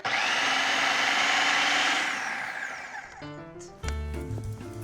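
Soaked fava beans pulsed in a blender: a loud whirring motor burst winds down over a few seconds, then a short second pulse starts with choppy grinding.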